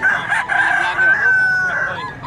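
A rooster crows loudly and close by in Mantalungon, Cebu, one long drawn-out call with a rising start and a wavering, fading finish.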